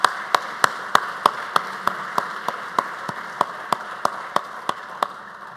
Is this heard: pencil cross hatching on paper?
no